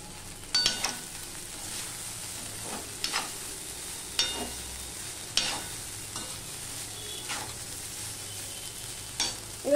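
Flattened rice (chira) stirred and frying in a wok over raised gas heat, a soft sizzle under a few sharp scrapes and clinks of the spoon.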